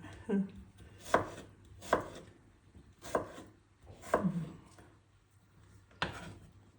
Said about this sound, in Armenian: Մենք մի քիչ մեծ ենք կտրատում, որ ինքը չփափկի սալատի մեջ։